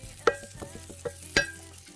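Onion, garlic and ginger hitting a pan to sauté, a soft hiss with a few distinct utensil taps and clinks over two seconds, close and fairly quiet.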